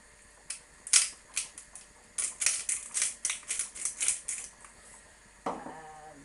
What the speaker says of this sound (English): A quick grind of black pepper.